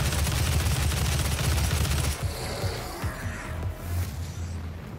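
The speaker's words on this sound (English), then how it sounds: "Assault rifle." Rapid automatic assault rifle fire in DOOM (2016), loud sustained bursts for about two seconds, then scattered shots and explosive thuds over game sound.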